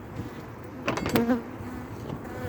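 Honeybees buzzing around an opened hive during a winter inspection on a cool day, a soft droning hum with a brief louder pass of a bee close by, no talking.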